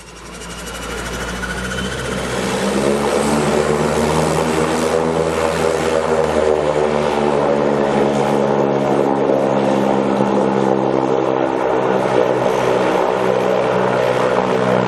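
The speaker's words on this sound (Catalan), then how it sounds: "l'avioneta s'enlairarà amb els hostes que ja han acabat el seu estat" A small propeller plane revs up and takes off from an island airstrip near Bali and Moyo, its engine drone building from quiet to a loud, steady roar with strong low harmonics that hold for the rest of the clip.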